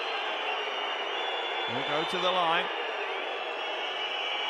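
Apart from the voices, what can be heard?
basketball crowd whistling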